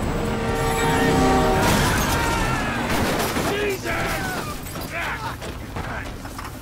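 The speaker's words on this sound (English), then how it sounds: "Beat the train, man!" Train rushing past in GTA V gameplay, a loud, dense rumble and clatter of rail cars that builds and then fades, mixed with gunfire, game noise and shouting voices.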